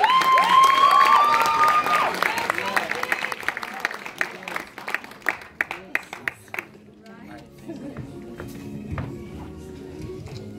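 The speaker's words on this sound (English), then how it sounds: "can I please have a big round of applause for Soetry, everybody?" Audience applause and cheering at a spoken-word poetry festival, a loud burst of clapping with whoops that thins into scattered claps and dies away, followed by quieter sound as the performance begins.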